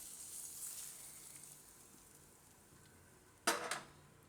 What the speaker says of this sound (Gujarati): આમાં આપણે હિંગ નાખીશું અને વઘાર આપણે રાયતા ઉપર નાખી દેવું